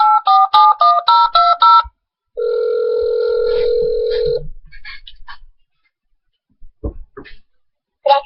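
Telephone keypad tones beep in a quick run of dialing, followed by a long steady ring tone, then scattered faint clicks and short bursts on the line, close and clear with no talking.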